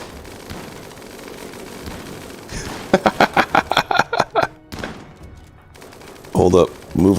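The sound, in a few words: minigun fire in RimWorld video game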